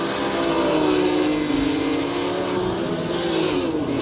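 Grand Prix race cars from 1958 on the Nürburgring in Assetto Corsa, a continuous loud engine drone with a pitch that wavers and slowly falls as the cars pass.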